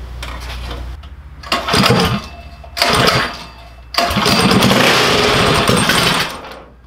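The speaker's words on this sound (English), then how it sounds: "break-in start of the Stage 4 engine" A Stage 4 mini bike engine is cranked a few times in short loud bursts on its first break-in start, then catches and runs roughly with a rattling, sputtering sound before cutting out.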